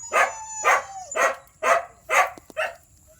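A mother dog that has just given birth to puppies barks close by, six short separate yips and barks in an even rhythm, with no voices over them.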